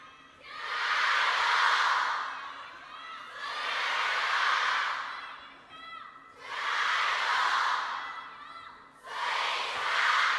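Spectators at a table tennis match at WTT China Smash 2025 cheering for Sun Yingsha, four swelling waves of loud crowd roar and shouting, each a couple of seconds long with quieter gaps between.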